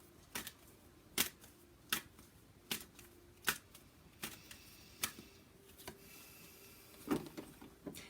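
Tarot cards are shuffled quietly close by, a series of soft, crisp snaps and riffles arriving roughly every half second to second, faint and isolated with no speech.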